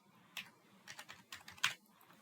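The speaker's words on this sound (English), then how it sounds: "Let me type things on all this." Computer keyboard typing sounds as sparse, quiet key clicks, a handful of separate taps with brief pauses between them.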